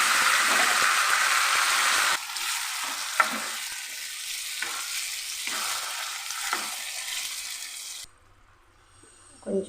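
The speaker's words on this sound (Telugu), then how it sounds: "ఇలాగా వేగిపోయాక మనం కట్ చేసి పెట్టుకున్న టమాటాస్ అయితే వేసేసుకుంటున్నానండి." Chopped tomatoes land in a hot frying pan for a potato curry, bringing a loud hiss that settles into steady sizzling with stirring clinks and then drops away near the end.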